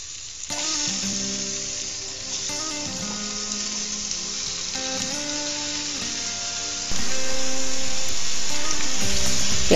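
Washed mutton dropped into a pan of onions for biryani, sizzling and frying loudly and steadily throughout, with stirring clatter and a sharp rise in intensity near the end.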